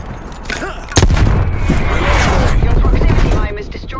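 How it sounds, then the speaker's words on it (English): Artillery fire in Call of Duty Black Ops Cold War during a Domination match on the Amerika map, with a sharp loud blast followed by sustained rumbling and scattered gunfire, and an announcer voice is heard. "Hostile artillery targeting active."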